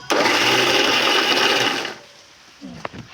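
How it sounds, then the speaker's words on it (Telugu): A kitchen mixi grinds tomato and green chilli chutney in a loud, continuous whir for about two seconds, then cuts off into a quiet room with a few soft knocks. "కొంచెం అక్క ముక్క అనిపించింది అందుకే మిక్సీ పెట్టిన ఫ్రెండ్స్"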